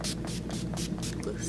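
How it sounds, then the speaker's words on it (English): Urban Decay makeup setting spray misted onto a face in a series of short, close hissing bursts with steady background hum. "Spray it on my face so my face stays fresh"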